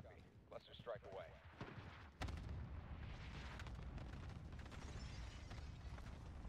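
Cluster strike explosions in Call of Duty Warzone burst in around the two-second mark and roll on as a loud, continuous rumbling barrage, with voices talking earlier in the clip.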